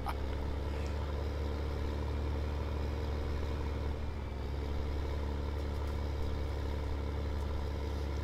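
A tractor engine drones steadily in Farming Simulator 15 while working a field, a constant low mechanical hum with no breaks or rises, moderately loud and heard without any talking.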